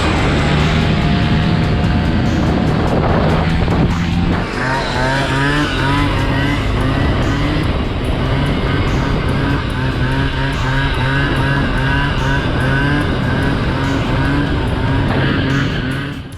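A Honda ADV 150 scooter being ridden, its engine drone loud and close, rising and falling in pitch as it speeds up and slows, mixed with continuous road and wind rumble and no talking.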